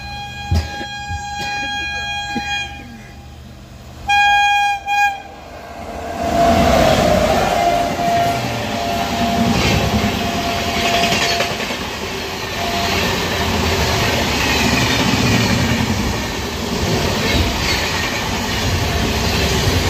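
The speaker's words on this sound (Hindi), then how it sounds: "अमृतसर की तरफ से भी एक ट्रेन आ रही है जिसकी क्रॉसिंग होगी यहाँ पे" An Indian Railways train pulls in at a crossing on the Ajmer–Amritsar Express route, its rolling rumble and clatter loud and close and building steadily over the wheels, with a few short horn-like tones early on and people talking nearby.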